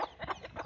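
A hen clucks in a quick series of short, close clucks, fairly quiet, with no talking over it.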